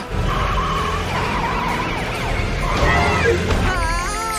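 A cartoon robot ambulance drives out of control with its siren wailing loudly and continuously, mixed with engine noise and tire skids, while voices talk over the scene.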